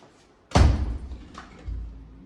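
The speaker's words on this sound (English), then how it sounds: "close the front door, sorry." Front door of an abandoned farmhouse in Portugal swings shut with one heavy, close thud, then a softer knock and a low rumble as it settles.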